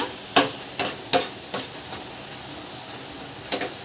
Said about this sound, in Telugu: మనకు ఇప్పుడు క్యారెట్ కొద్దిగా ఫ్రై అయ్యింది